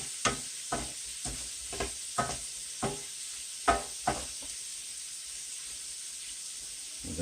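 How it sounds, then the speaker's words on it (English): Shrimp and grits ingredients sautéing in a pan: a soft continuous sizzle punctuated by about a dozen sharp spoon taps and scrapes in an uneven rhythm, close and fairly quiet, no voices. "I'm just going to saute this."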